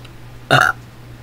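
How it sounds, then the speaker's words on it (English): A single short, loud burp breaks an otherwise quiet background with no talking around it. "I burped in his face."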